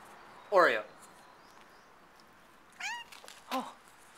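A domestic cat gives three meows, a long one first and then two shorter ones a couple of seconds apart, close and clear over a quiet background.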